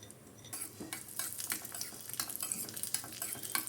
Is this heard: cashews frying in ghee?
yes